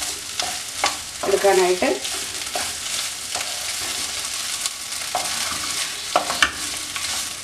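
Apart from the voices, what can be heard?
stirring potato egg thoran with curry leaves and coconut oil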